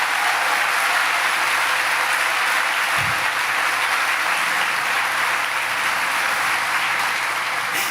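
A church congregation applauds loudly and steadily at a sermon, a dense continuous wash of clapping lasting throughout with no break.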